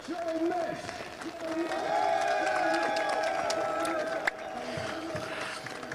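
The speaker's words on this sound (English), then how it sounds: "We can give him a round of applause." A crowd applauds at a GT4 motor race at Estoril as the winner comes in, with clapping and cheering heard under a commentator's continuous talk.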